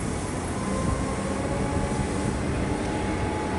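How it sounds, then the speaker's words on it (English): A Melbourne suburban train, set 487M, pulls out of Carrum station with a loud, steady broadband rumble and rush of motion that holds evenly throughout, close by and with no talk. "And the train started departing."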